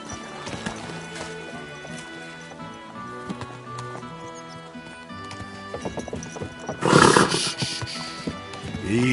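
In the video game Kingdom Come: Deliverance 2, a horse's hooves clip-clop rhythmically over a musical backdrop, then a loud neigh rises near the end, followed by more hoofbeats.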